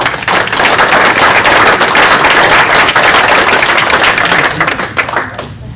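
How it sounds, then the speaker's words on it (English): Loud, sustained applause fills the room at an annual report meeting, a thick crackle of many hands at once that holds steady and then thins out near the end. "let's give everyone else just one big round of applause for their"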